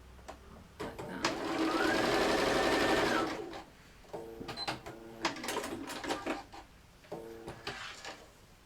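Sewing machine stitching a yin-yang purse or wallet: a steady whirring run of a couple of seconds, then short stop-start bursts of stitching with small clicks and handling noises, close and moderately quiet.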